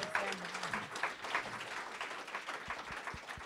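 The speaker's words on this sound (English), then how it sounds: "Can we get another round of applause for all the panelists and the moderators?" An audience applauds conference panelists and moderators at a talk on female founders and venture capitalists, a moderate, sustained clapping from a crowd with a brief voice at the start and a few low knocks toward the end.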